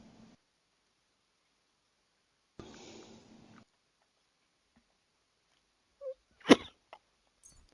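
A single sharp sneeze bursts out near the end from a character in Kingdom Come: Deliverance 2, preceded by brief faint rustles and followed by a couple of small clicks in otherwise near silence.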